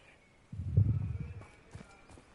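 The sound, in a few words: horse hooves clip-clopping in video game Hogwarts Legacy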